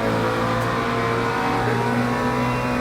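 A mid-engined race car accelerates hard out of a corner at Bahrain in Le Mans Ultimate, its engine a loud, close, continuous roar with layered harmonics that holds throughout without a break.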